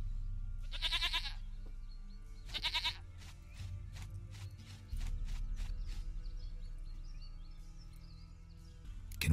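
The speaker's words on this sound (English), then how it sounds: "Goat of mine! Dearest, sweetest goat!" Goat in The Witcher 3 bleats twice in short trembling bursts, followed by a series of clopping hoof-like knocks over a low ambient rumble, fairly close.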